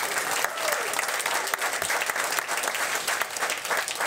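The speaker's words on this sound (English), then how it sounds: "you should give yourselves a round of applause because you've done really good as well" Applause from an audience at a live whisky tasting event in Stockholm, a dense steady clapping from many hands that fills the room without a break for several seconds.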